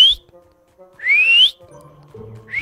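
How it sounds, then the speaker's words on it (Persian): Two rising whistle calls blown by a player during a Fortnite hide-and-seek match, each about half a second long and fairly loud, with a third starting at the end and soft game ambience beneath. "دارم سوت رو استفاده میکنم"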